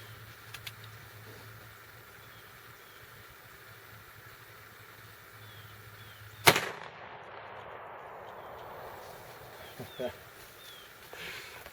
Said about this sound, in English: let's put a shot. Got us a can of blue paint hanging up down there.